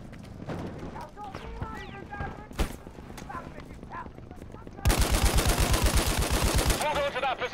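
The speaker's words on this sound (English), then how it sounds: "taking fire" Rapid bursts of automatic gunfire in a multiplayer shooter video game, sparse shots at first under talk, then a loud sustained machine-gun barrage near the end.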